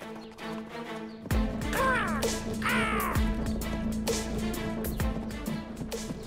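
An animated crow caws in a couple of harsh, close calls early on, amid busy cartoon sound effects and background music.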